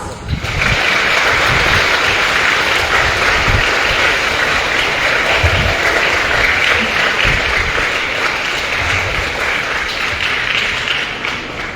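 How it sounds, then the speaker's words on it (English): A standing audience gives loud, sustained applause at a ceremony, steady clapping that fills the whole stretch with a few low thumps underneath. "please give them your loudest applause"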